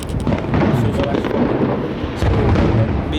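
Fireworks going off outdoors, a dense rumbling roar of booms and crackle that runs continuously at close, loud level for the whole stretch, with a brief dip before swelling again.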